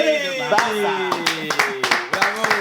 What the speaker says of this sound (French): N'applaudissez pas